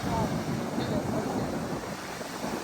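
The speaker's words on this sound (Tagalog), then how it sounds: "Dito pala yung mas malakas ang hangin." Strong wind buffets the microphone at the seaside with surf behind it, a steady loud rush throughout.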